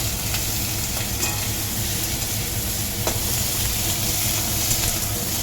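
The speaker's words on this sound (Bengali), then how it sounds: "এবার আমি ক্যাপসিকামটা এর মধ্যে দিয়ে দেবো। ক্যাপসিকামটা একটুখানি ভাজা ভাজা করে নেবো।" Chopped capsicum frying in a hot pan for chilli paneer, a dense, even sizzle that holds at a constant loud level throughout, with faint stirring clicks.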